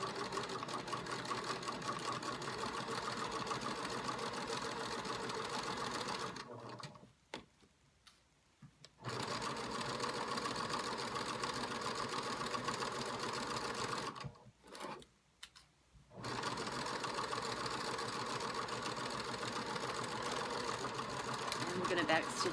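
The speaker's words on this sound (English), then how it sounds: "back stitching and stitching a 1/4 inch seam allowance" A sewing machine runs in long steady stitching bursts with two short pauses while a 1/4 inch seam and back stitches are sewn on a fabric project bag, close and even.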